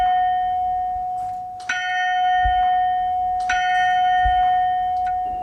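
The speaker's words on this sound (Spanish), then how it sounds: "escuchaba lo que suenan las campanas de San Luis" Church bells of San Luis ring with clear metallic strikes roughly every two seconds over a lingering sustained tone, heard at a distance and alone.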